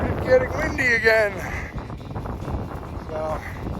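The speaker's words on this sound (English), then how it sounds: "it started getting windy again" Wind gusts buffet the microphone on a hiking trail, a loud, rough rush in bursts that masks a voice speaking near the start and briefly again near the end.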